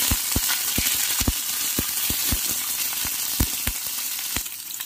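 Paneer stir-fries with onion, capsicum and green chili for a restaurant-style chilli paneer. A loud, continuous sizzle is punctuated by regular, crisp spatula taps against the pan, and no one speaks.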